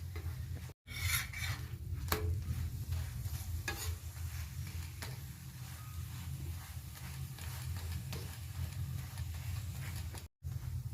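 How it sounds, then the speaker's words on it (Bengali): A palak paratha fries in oil in a pan, sizzling steadily throughout with scraping and pressing from a metal spatula on top, close and continuous with two brief dropouts. "তারপরে খুন্তি দিয়ে একটু চিপে চিপে দিচ্ছি, যাতে ভালো করে ভাজাটা চারিদিকটা কাঁচা যেন না থাকে"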